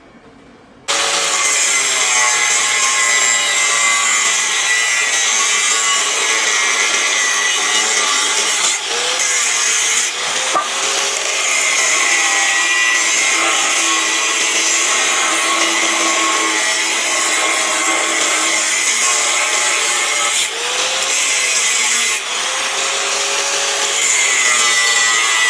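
A Bosch GWS 700 angle grinder cuts through a steel U channel about 4 mm thick, a loud, steady high-pitched whine and grinding screech that starts abruptly and holds for over twenty seconds, with slight dips as the cut progresses.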